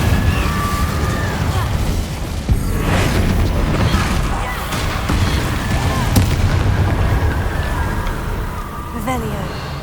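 Fiery spell blasts in the Hogwarts Legacy game ring out through a dense, loud battle din of booming bursts and cracks, with short whooshing flourishes layered over continuous rumbling combat noise.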